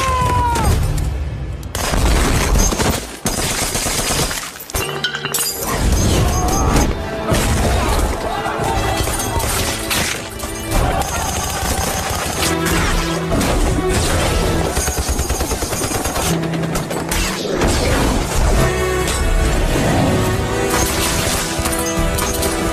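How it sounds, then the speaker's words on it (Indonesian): Loud, dense action-film battle sounds: rapid bursts of gunfire at an armed helicopter, mixed with booming explosions and crashing impacts, continuing almost without pause. "Polat kemudian menembak sebuah helikopter bersenjata yang telah dikerahkan oleh Israel."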